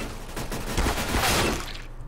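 Gunfire from a shooter video game, a rapid burst of overlapping shots in a short, loud volley lasting about two seconds.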